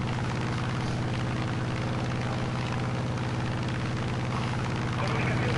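Propeller engine of an Italian World War II plane in the War Thunder video game, a steady, loud droning hum with a strong low harmonic buzz running throughout, no pauses.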